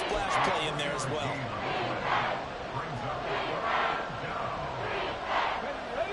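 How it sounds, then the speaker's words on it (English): Crowd noise at an American football game swells in steady waves across the stands, a broad roar rising and falling with cheers, with no clear talk over it. "Well, this crowd into it now."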